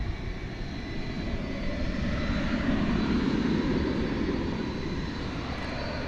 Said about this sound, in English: we just saw American Flight 2872 going to Las Vegas in Airbus A321